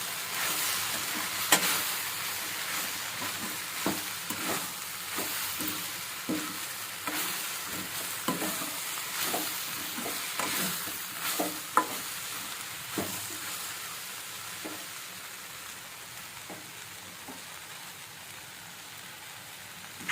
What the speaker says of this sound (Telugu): చూసారా ఫ్రై బాగా అయిపోయింది ఆ తర్వాత మళ్ళీ ఒకసారి కదిలి పెట్టేసుకోండి